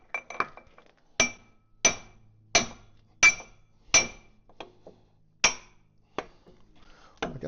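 A hammer taps on a loose loader hydraulic cylinder, about eight sharp metallic clanks spaced roughly evenly with a ringing edge, close and distinct, with faint lighter knocks in between.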